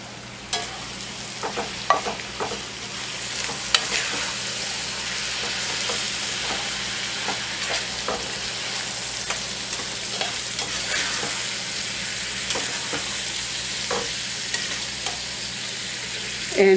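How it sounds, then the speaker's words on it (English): Fire-roasted tomatoes go into onions and peppers sizzling in an iron skillet for a Tex-Mex tamale pie, giving a steady close frying hiss with scattered scraping and stirring clicks throughout, with no talking. "I'm going to add in my fire-roasted tomatoes."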